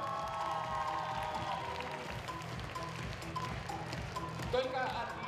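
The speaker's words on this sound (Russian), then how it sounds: "Ваши аплодисменты Марии еще раз!" Audience applauding an award winner named Maria at the Miss ITMO 2013 pageant ceremony, a dense continuous wash of clapping with crowd noise, mixed under music and a host's voice.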